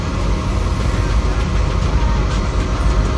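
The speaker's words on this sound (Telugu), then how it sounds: "సాయినగర్ షిరిడి ట్రైన్ ఇప్పుడే ఎక్కాం మనం సికింద్రాబాద్ నుంచి." Inside a nearly empty coach of the Sainagar Shirdi train just leaving Secunderabad, a steady, loud rolling rumble and rattle fills the carriage without any talking.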